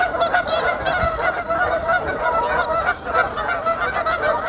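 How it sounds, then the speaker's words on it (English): A flock of geese near Goose Island honks loudly and continuously at close range, with many overlapping calls forming a dense, steady racket. "Here come the geese."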